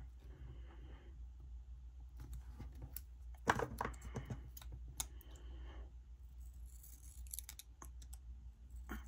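Scissors snip and trim paper while a Happy Planner monthly layout is set up, with quiet, close cuts, one louder crunchy stretch of cutting, and soft paper handling around it.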